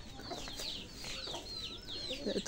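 Chickens clucking outdoors, a series of short faint clucks and chirps repeating irregularly over a low background hum.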